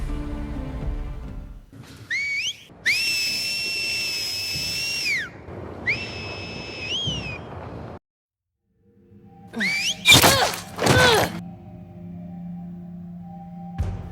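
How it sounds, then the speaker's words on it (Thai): Seraphite whistle signals from The Last of Us Part II sound as several long, clear, sliding whistles, loud and close, broken by pauses and followed by a sharp clattering impact and a low hum. "การสื่อสารผ่านสัญญาณเสียงผิวปาก"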